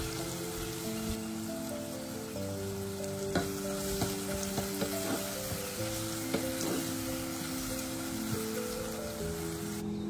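Onion, tomato, three green chilies, curry leaves and ginger garlic paste fry in hot oil with a dense, continuous sizzle and occasional stirring, while faint steady tones hum in the background.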